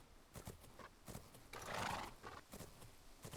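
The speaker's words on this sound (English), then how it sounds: "Finally, time to canter. Don't worry, Sunny's canter is super smooth and easy." Horse cantering in the Fernhoof Grove video game, quiet rhythmic hoofbeats repeating in an even gait with a brief snort or whinny-like burst midway, faint overall.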